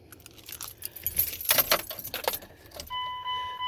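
Keys jangling near a truck, a bright metallic clatter of several keys shaking and knocking together for about two seconds, fairly close, followed by a steady electronic chime tone from the vehicle.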